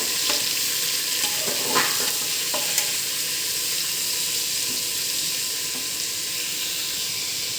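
Onions, dry chillies and a bay leaf fry in hot oil for mutton kosa, giving a steady close sizzle with occasional stirring scrapes and soft clinks.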